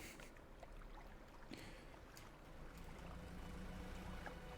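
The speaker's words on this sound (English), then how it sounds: "Holy cow, this boat is quick." A small boat glides quickly across water in Stardew Valley, a faint, soft swish and trickle of water under a low, steady hull rumble.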